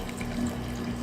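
Tap water runs steadily into a cup or pot, measured out for cooking rice in a multicooker; a continuous close rushing flow with no talking over it.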